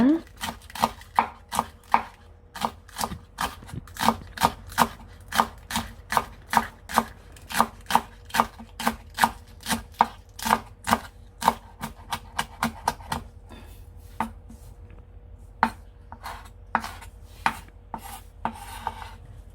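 A knife chops green onion on a cutting board in a kitchen, a long run of quick, evenly spaced crisp taps, close and clear, that thins out and slows toward the end.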